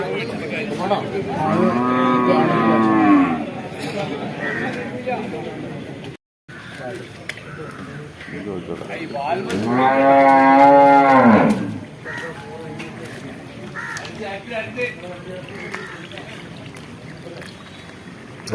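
Water buffalo at a livestock market give long, deep lowing calls, two prominent bellows several seconds apart, amid outdoor background noise and people talking nearby.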